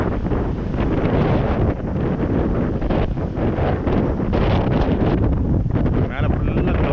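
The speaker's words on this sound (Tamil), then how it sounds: "காற்று பயங்கரமாக அடிக்குது." Strong cyclone wind at Chennai's rough sea roars steadily across the microphone with heavy, broadband buffeting, rough water churning underneath, loud and continuous throughout.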